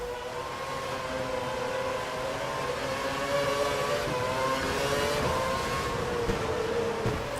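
A Formula 1 race car screaming down the straight in an F1 Spain racing game set in the rain, a loud sustained high-pitched engine whine that rises steadily in pitch as it accelerates, with no voices.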